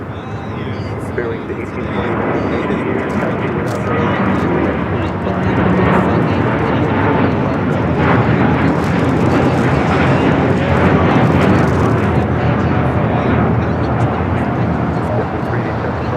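An airliner at LAX airport makes a loud, sustained jet roar that swells and stays strong the whole time, with people talking underneath.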